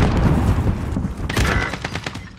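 AK rifle gunfire in Modern Warfare (2019), a rapid burst of loud close shots that fades into sparser cracks and echoes.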